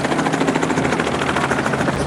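A helicopter giving rides at an air show thuds loudly and close by with a steady, rapid rotor chop under a constant engine whine, and no one speaks.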